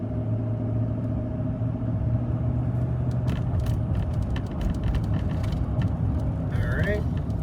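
A Chevrolet Silverado pickup truck drives at around 35 mph while bedding in new brakes, producing a steady, close road and engine rumble with occasional light clicks and ticks over the drone.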